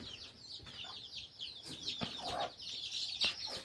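Chickens on a poultry farm cluck and chatter in a busy, overlapping flock, with sharper calls and a few thuds standing out against the steady background.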